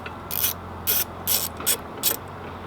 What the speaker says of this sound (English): There, cracked it open with my 13 wrench.